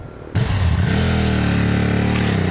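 KTM 990 Supermoto engine rumbling loud and steady as the bike rides along twisty back roads, a sudden onset followed by a sustained, even drone.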